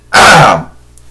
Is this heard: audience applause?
no